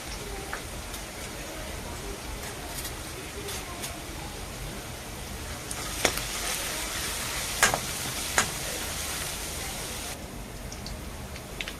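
Bay leaf, curry leaves and cumin sizzle in hot oil for a Rajasthani gatte curry, giving a steady, even hiss with a few brief crackling pops.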